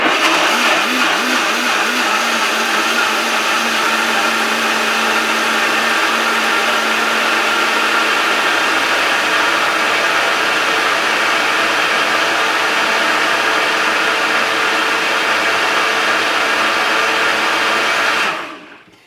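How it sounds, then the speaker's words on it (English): A Vitamix blender set to speed 7 blends sea moss with a steady, loud, high whirring motor that holds level throughout, then cuts off abruptly near the end, with no talk over it. "my sea moss is in its container, it's in the blender."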